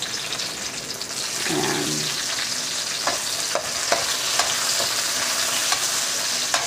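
Onion and then tomato sautéing in a pan, with a steady broad sizzle and a few scraping stir clicks near the mic. A voice speaks briefly early on.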